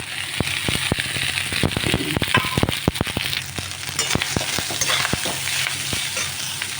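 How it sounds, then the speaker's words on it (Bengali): Cooked rice is tipped into a hot pan and stir-fried with ghee for fried rice. A loud, dense sizzle and crackle runs throughout, with frequent sharp spatula knocks and scrapes against the pan close by, and no talking. "এবার আমি ভাতটা দিয়ে দিলাম"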